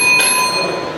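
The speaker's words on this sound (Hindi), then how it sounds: "इस दौरान 2 बार घंटी इस प्रकार बजेगी।" A warning bell sounded to mark time at a Hindi declamation contest, heard as one sustained bright metallic ring with steady tones that hang and slowly fade across the second, alone with no talk.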